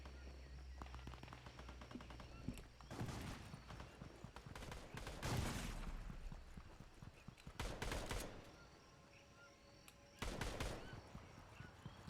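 Automatic gunfire in Fortnite, several bursts of rapid shots that come in clusters with quieter gaps between them and sound fairly distant and faint.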